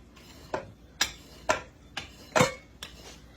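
A pizza cutter chops homemade dumpling dough inside a bowl, making about six sharp, evenly spaced clicks and taps against the bowl, close and clear with no voices.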